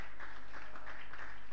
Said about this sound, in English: If you're clapping for Jesus, let him hear it.